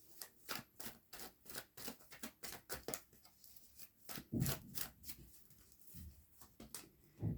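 Tarot cards being shuffled, a rapid series of crisp flicking and riffling bursts close by, irregular in rhythm with short pauses, quiet overall.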